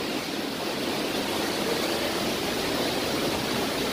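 The Pailón del Diablo waterfall in Baños roars at night, a loud, constant rush of falling water that stays even and unbroken from start to finish.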